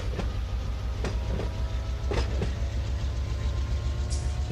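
Simulated diesel locomotive engines in Run 8 Train Simulator III throttled to notch 3 with a heavy load, a steady low rumbling drone with a few sharp clanks and metallic squeals over it.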